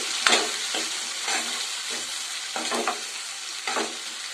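Sliced onions frying and being stirred in a pan for bisi bele bath, a steady sizzle broken by repeated scraping stir strokes, close and fairly loud, with no talk.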